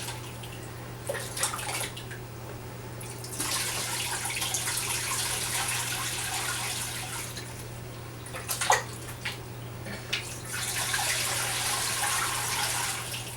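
Water poured through a colander into a 10 gallon fish tank with sand on the bottom, a steady rushing splash that runs nearly the whole time with brief surges and drips, close and alone over a low constant hum.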